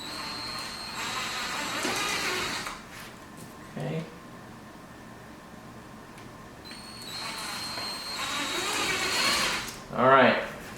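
A power drill boring holes in a C8 Corvette during a high and low wing spoiler install, with two whirring bursts of drilling separated by quieter pauses and a short sharp sound near the end.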